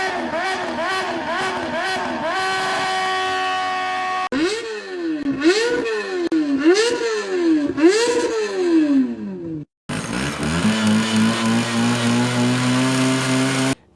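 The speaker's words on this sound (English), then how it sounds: "Don't go through somebody's neighborhood at 2 o'clock in the morning revving your motorcycle." A motorcycle engine revs loudly and repeatedly in rising and falling bursts, settling into a steady high drone between sequences, up close with no talk over it.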